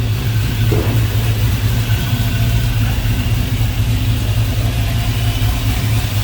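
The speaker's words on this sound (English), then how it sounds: "Nice sounding. Smooth running V8." A 1953 GMC five-window short box street rod with a V8 idles smoothly and continuously, a close, loud, even low rumble with no revving and no talk.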